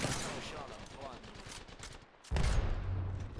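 Gunfire in a video game aimed at a wall: rapid crackling automatic bursts, fairly faint, briefly pausing before resuming louder.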